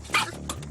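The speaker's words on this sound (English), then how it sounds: "The dog is showing signs of overheating, and it's frightened and aggressive." An overheated, frightened dog whimpers during an animal rescue, giving a couple of short, close yelps and whines in quick succession.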